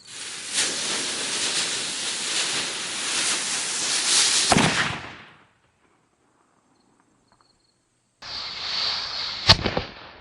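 A homemade M-80 firecracker goes off as a loud broadband burst with a hissing roar lasting several seconds before cutting to silence, then another hissing blast returns with a sharp crack near the end.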